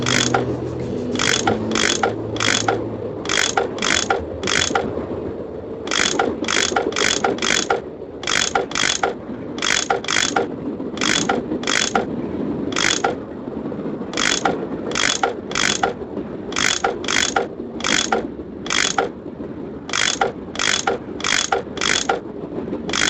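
Repeated ratchet clicks from a ratchet tool unscrewing bolts in the Nancy Drew game Last Train to Blue Moon Canyon, sounding as a steady run of sharp, close mechanical ratcheting bursts over a low background hum, with no talk.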